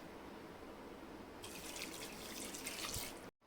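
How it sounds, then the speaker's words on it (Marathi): Water runs steadily into a pot after turmeric and asafoetida, a continuous splashing pour with a faint drip at the end, close by and without talk. "पाणी टाकायचं ह्याच्यामध्ये"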